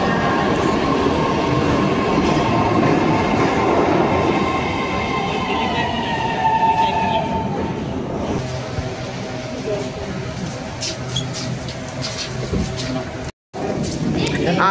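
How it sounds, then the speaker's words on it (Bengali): Underground metro train in Saint Petersburg, Russia, rumbling loudly through a deep station with steady wheel and carriage noise, fading after about eight seconds into station ambience with voices nearby. "মাটির 200 মিটার নিচে থেকে এখানে মেট্রো চলে"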